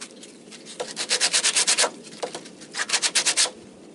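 Knife steel rubbed against abrasive grit in quick rhythmic strokes, two bursts of rapid scraping passes separated by a short pause, close and fairly quiet.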